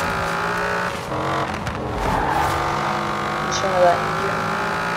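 Custom car engine in Forza Horizon 4, sounding somewhat muffled and strained, drones steadily at speed on a freeway-like road in a racing game, loud and continuous with a brief swell near the end.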